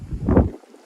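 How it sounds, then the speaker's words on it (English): Low, buffeting wind rumble against the microphone outdoors while stripping paint from rusty galvanised Land Rover parts, swelling briefly then dropping away to near silence. "Apologies for the wind today if that's coming through on the camera."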